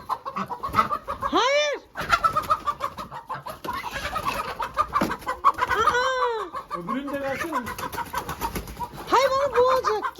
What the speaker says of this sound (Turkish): Şimdi bu bizim horozumuz.